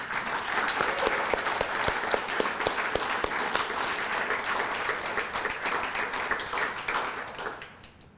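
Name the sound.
round of applause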